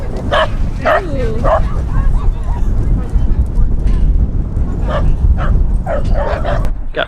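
Dogs playing at a dog park, giving repeated short barks, yips and whimpers at close range amid rough ambient noise, with people talking over much of it.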